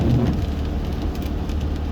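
Rain falls during a road trip, a steady close hiss of drops with a low rumble underneath, continuous throughout with no talking.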